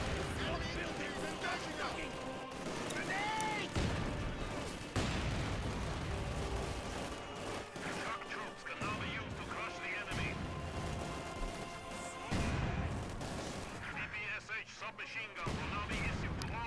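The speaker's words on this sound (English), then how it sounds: "But they've got their mortars and their machine gunners." Mortar and machine gun fire in Company of Heroes 2 during an online skirmish in a wooded map: continuous dense battle noise with repeated thumping impacts and rattling bursts, layered under game sounds.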